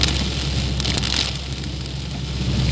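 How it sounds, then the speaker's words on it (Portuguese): Very heavy torrential rain pours down near a park in Porto Alegre, a dense, steady roar of close rainfall that fills the whole clip with no voices. "Chuva muito forte agora"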